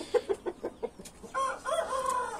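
Rooster at a backyard aviary, a short series of clucks followed by a crow, heard close and fairly clear, with no voices.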